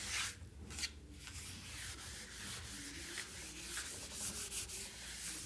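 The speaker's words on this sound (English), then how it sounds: "Just my sanding bits." Close, steady rubbing of sandpaper against a surface, scratching back and forth in uneven strokes with no voices.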